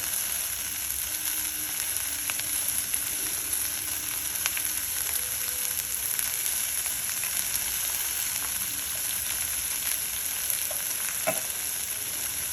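Tomatoes and chili powder frying with turmeric in a pan for a cabbage-tomato curry, giving a steady, even sizzling hiss throughout with occasional faint clicks and no voices.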